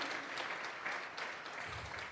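A church congregation gives a round of applause during a Sunday service, a steady, moderately distant wash of clapping from many hands.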